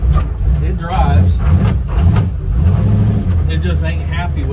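A 1947 Hudson pickup truck, abandoned for three years, runs and drives with its brakes dragging; the old engine rumbles loudly and steadily up close, rising and falling slightly throughout.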